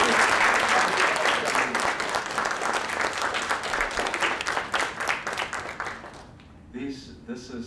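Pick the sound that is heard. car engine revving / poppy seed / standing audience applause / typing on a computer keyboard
standing audience applause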